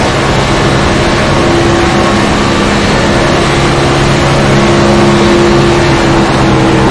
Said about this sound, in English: Listen to the high RPMs